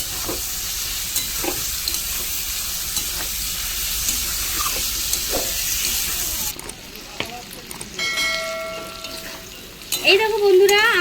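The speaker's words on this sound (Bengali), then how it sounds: "চিকেনটা আর আলুটা ভালো করে আমি কষিয়ে নেবো" Chicken and potato fry and get stirred in a pan, a loud hissing sizzle with periodic spatula scrapes for several seconds, then the sizzle drops away as a voice speaks over quieter pan noise.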